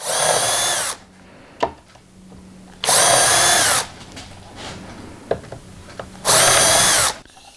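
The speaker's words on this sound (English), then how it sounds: "the Vicks bit hole is acting as a pilot hole to steer the point of the brad point drill down through the hole" A power drill with a brad point bit bores through wood in three separate bursts of about a second each, with quiet pauses and light clicks and handling noises between them.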